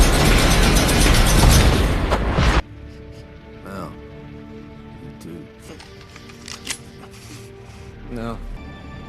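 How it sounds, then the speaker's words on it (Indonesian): In a zombie film, a gas station explodes in a loud, dense roaring blast that rumbles for a couple of seconds and then cuts off abruptly, giving way to quieter film sounds and a voice. "Lalu meledakkan pom bensin yang ada di sana meskipun dirinya harus ikut terbakar"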